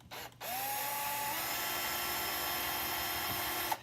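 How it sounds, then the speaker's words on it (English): A power drill drives a screw to fasten a cabinet handle, giving one steady whirring run that rises briefly in pitch before settling into a continuous close hum, with a small click at the end. "Drill the other one in as well."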